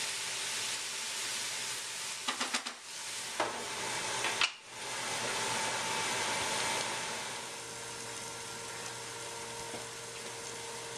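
Ground meat frying in a pan for empanada filling, a steady broadband sizzle running throughout with a few brief stirring knocks and a short pause near the middle, close and alone without talk.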